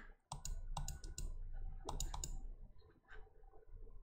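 Mouse clicks while playing the video game Zombidle come in quick, close, sharp bursts, several clicks per second in irregular clusters.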